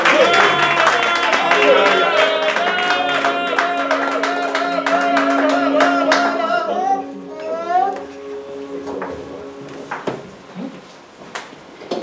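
A church congregation at a Christmas celebration bursts into loud, sustained applause and cheering that fades into scattered claps and voices.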